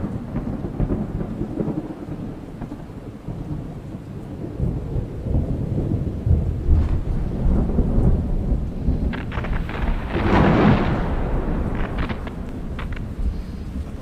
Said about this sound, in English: Perhaps it was nothing but the rumbling noise of a distant thunderstorm.